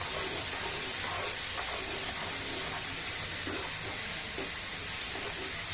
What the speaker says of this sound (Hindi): ये देखिए यहाँ ऑनियन भूनते हुए प्याज को भूनते हुए 2-3 मिनट हो चुकी है